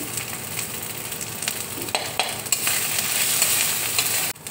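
Green chilies, curry leaves and turmeric hit hot oil in a pan, raising a steady, close sizzle that swells louder partway through, with faint stirring scrapes and a sharp knock near the end.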